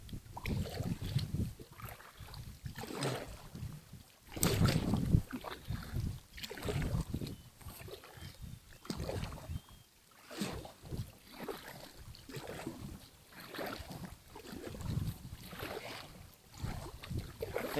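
Kayaks glide along the Red Deer River with rhythmic paddle splashes and water swishing, accompanied by gusty wind buffeting the microphone.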